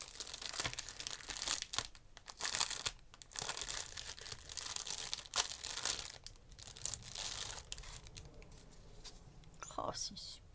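A paper-wrapped package is opened up close, with a steady run of crinkling, rustling and short tearing sounds and soft whispered speech throughout.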